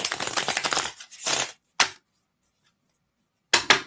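Oracle deck being shuffled by hand: a run of quick papery riffles, then a few short separate card snaps after a pause, close and fairly quiet.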